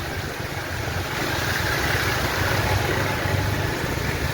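A motorcycle engine runs steadily while riding through flood water, a continuous low rumble mixed with broad watery wash and splashing, fairly loud and close, with no talking.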